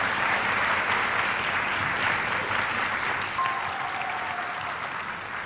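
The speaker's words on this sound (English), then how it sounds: "give a round of applause for both." Audience at a self-defense speech event claps continuously, a dense steady roar of many hands that fills the room for several seconds, fading slightly near the end.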